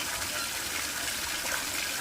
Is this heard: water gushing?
yes